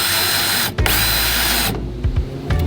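A power drill with a sharp drill bit whirs loudly and steadily close up during a camper renovation, briefly stopping and restarting with short bursts toward the end.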